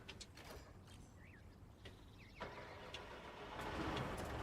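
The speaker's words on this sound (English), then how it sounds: "Engine on." Vehicle engine in the Roadcraft game running at a low, steady drone, with mechanical clanks and creaks on top and a rougher roar building toward the end.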